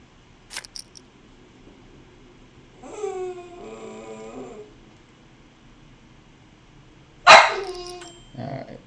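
An indoor dog gives a short bark, then a drawn-out rising whine, followed by a louder sharp bark and another brief yelp, all close by with quiet pauses between.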